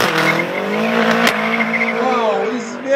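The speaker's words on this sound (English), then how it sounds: "Now I want to show you amazing, amazing drift." A drifting BMW's tires squeal in a long, loud, sustained screech over engine roar, with a voice talking alongside.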